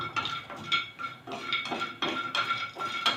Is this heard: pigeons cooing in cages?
no